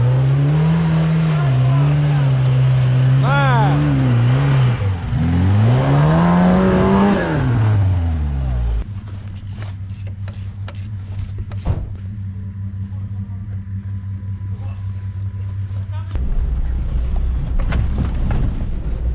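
Off-road vehicles pull away on a first outing of the season in Transcarpathia, engines revving and whining up and down loudly nearby before settling into a lower steady drone with creaks and knocks.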